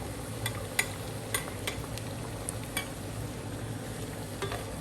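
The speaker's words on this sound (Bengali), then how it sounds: "এখানে আমি নেড়ে চেড়ে নিচ্ছি" Food being stirred in a pan, scraping strokes at an irregular pace over a steady low background hum, with no talk.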